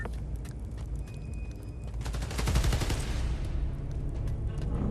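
Rapid, dense gunfire from the video game Marvel's Spider-Man: Miles Morales on PS5. Sustained automatic bursts swell louder midway over a rumbling game soundscape, with no voices.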